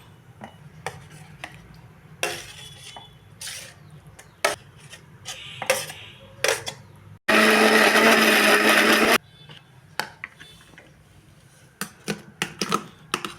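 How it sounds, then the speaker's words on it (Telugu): A mixer grinder blending peanut tomato chutney roars loudly in one burst of about two seconds, surrounded by scattered clatter and knocks of kitchen handling, with no talk. "దీంట్లోనే మనం చల్లార్చిన టమాటాలు కూడా వేసేసుకొని మిక్సీ వేసుకుందాం"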